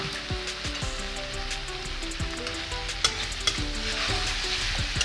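Local chicken curry simmers and sizzles in a pot after warm water goes in for gravy, with tomatoes already added. A spoon stirs it in quick repeated scrapes and taps against the metal, and two louder knocks stand out. No one speaks.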